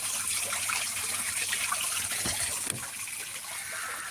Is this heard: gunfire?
no